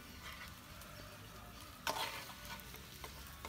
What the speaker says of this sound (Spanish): Para sofreír la otra cosa, bella.